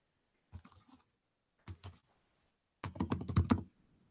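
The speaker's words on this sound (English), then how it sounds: "then you'll start typing my name" Fingers type on a computer keyboard in three separate bursts of quick, close clicking, separated by silent pauses, the last burst longest.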